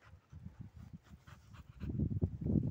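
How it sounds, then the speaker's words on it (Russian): A four-month-old American Akita puppy panting in quick soft breaths with faint whimpers, close and quiet at first, growing louder and denser toward the end. "Как видно, это щенок американская акита."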